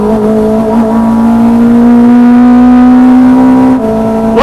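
A 250 bhp Renault Clio Mk3 R27 with individual throttle bodies holds a loud, close engine note near its soft limiter just under 8,000 rpm on track, with a sustained droning tone and a brief dip near the end.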